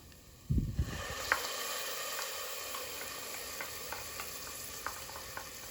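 Tomato sauce is poured into a pan of frying, lightly caramelized onions and stirred, opening with a brief splash and scrape, then a steady close sizzle broken by faint spoon clicks.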